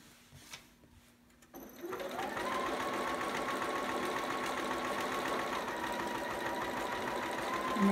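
A sewing machine stitches a seam on a romper, starting after a few soft clicks and then running in a fast, steady mechanical whir at close range until the end, with no voices.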